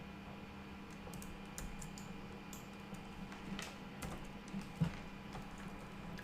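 Someone types on a computer keyboard: faint, scattered key clicks in an irregular rhythm over a low, steady hum, with no voice.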